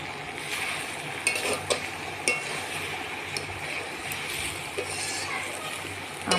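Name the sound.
stirring boiled jackfruit with garam masala in pan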